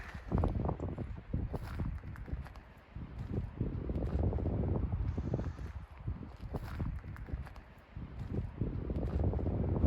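Gusty wind on a dirt trail between Montrose and Moab rumbles and buffets the microphone in uneven surges, with faint rustling and soft crunching steps underneath.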